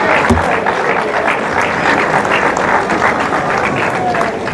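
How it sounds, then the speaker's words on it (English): An audience at a university colloquium claps continuously, a dense wash of many hands that stays steady and loud, with some voices mixed in. "Please keep clapping so that many people are allowed to go through the stage"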